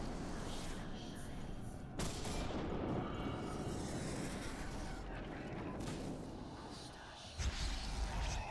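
Gunfire crackles through a Witcher 2 video game battle, a busy barrage of shots and bursts layered under a noisy, chaotic din, with a couple of sharper impacts standing out midway and near the end.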